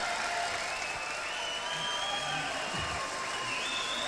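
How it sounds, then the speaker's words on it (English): A studio audience at a 1988 television telethon applauds, a steady, sustained clatter of clapping with light cheering and a faint tone running beneath it. "I think that's worth a round of applause."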